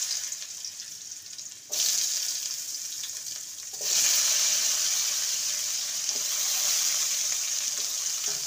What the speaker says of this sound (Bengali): আলুটাকে 2 মিনিট ভেজে নেব